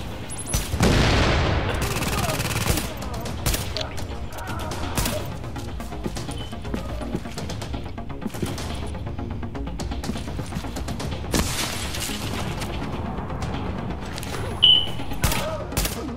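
Rapid automatic gunfire from a machine gun in The Division shooter game, loud sharp bursts with crashing impacts over a busy game soundscape.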